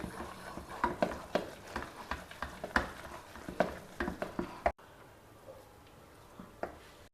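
Cooked rice and lentils, creamy and mushy, being mixed by a spoon in an opened pressure cooker, giving repeated soft squelching scrapes in an irregular rhythm, close and fairly quiet, with a brief gap partway through before a few more stirs.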